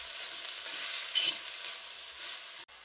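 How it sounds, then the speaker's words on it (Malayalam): Vegetables frying with a little salt in a pan for a Kerala lunch, giving an even, continuous sizzle up close with faint stirring scrapes and a sharp knock near the end. "അല്പം കുറച്ച് ഉപ്പും ഇട്ട് ഇവയെല്ലാം കൂടി നന്നായി ഇളക്കുക."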